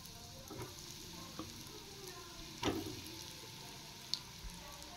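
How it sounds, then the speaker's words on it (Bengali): Chicken balls frying together in hot oil, giving a steady, fairly quiet sizzle with a few soft clinks and bumps from a utensil. "এবার চিকেন বলগুলো সব ভেজে নেব।"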